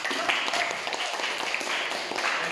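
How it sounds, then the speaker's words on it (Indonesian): Audience applause after a student teacher's biology presentation in a classroom, a steady wash of clapping from a small group lasting the whole stretch, moderately loud and fairly close. "sekali lagi beri tepuk tangan"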